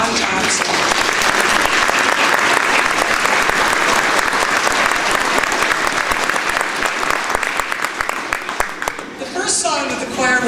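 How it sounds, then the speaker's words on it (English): An audience in a hall gives an accompanist a long round of applause at an elementary school choir concert, dense clapping that runs close and full for about ten seconds before thinning at the end. "Please give a round of applause for our accompanist, Don Thompson"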